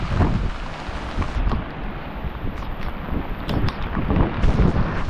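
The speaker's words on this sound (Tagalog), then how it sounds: "medyo mahina pa ang hangin" Typhoon wind gusting steadily in Surigao City ahead of landfall, still fairly mild, a constant broadband rush with buffeting on the microphone and no voices.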